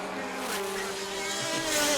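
A Radical race car with a 0.7 litre engine passes at a circuit race meeting, its high engine whine rising in pitch and growing louder as it approaches, heard alone and fairly distant.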